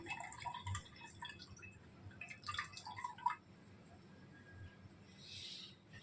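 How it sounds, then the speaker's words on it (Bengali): Water trickling and dripping as freshly strained chhena cheese is squeezed by hand for steamed sandesh, a quiet, irregular patter of drops that comes in short bursts. "এবার আমি জলটাকে ভালোভাবে ঝরিয়ে নেব।"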